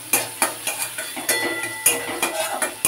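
Chopped onions fry in a pan with a small home-grown bay leaf for a rui fish curry, giving a steady close sizzle broken by repeated scraping stirs and light clinks of a utensil against the pan.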